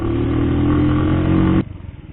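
A freshly washed motorcycle's engine droning loud and close while riding, a steady hum that cuts off abruptly near the end, leaving a fainter fluttering idle.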